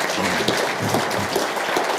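An audience claps steadily and continuously for a panelist at an economic forecast event, a dense patter of many hands filling the room.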